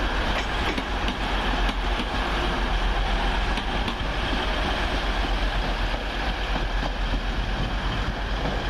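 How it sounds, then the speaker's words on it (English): A Class 185 TransPennine Express train from Manchester Airport to Cleethorpes runs close by at Doncaster with a loud, sustained rumble and a rattle of wheels and carriages throughout, and no speech. "Next up, the 1337, first Transpennine Express service from Manchester Airport to Cleethorpes. 185123."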